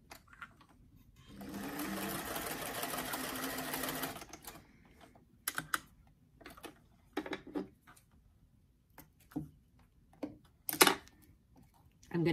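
Sewing machine runs steadily for about two and a half seconds stitching the second side seam of a Robert Tonner doll dress, then stops, followed by scattered handling clicks and light knocks.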